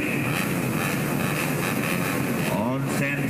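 Honda Sonic motorcycles at a Motoprix race in Aceh hold their engines at full RPM at the start, a loud steady roar over the whole clip that swells near the end.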